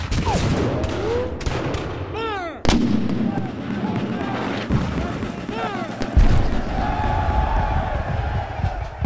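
Cannon fire at a Civil War reenactment of the Battle of Shiloh, a sharp loud blast followed by rumbling echoes amid scattered shots, cheering and background voices.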